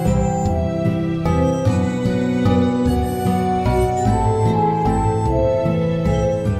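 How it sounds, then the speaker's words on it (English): Shimmering, glassy psychedelic tones from a crystal baschet, a glass instrument, in a Slime Rancher music theme, sustained ringing pitches with repeated soft attacks forming a steady layered drone throughout. "Well, that is the sound of a crystal bachet,"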